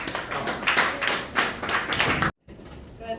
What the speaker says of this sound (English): So give her a round of applause to Ms. Commissioner.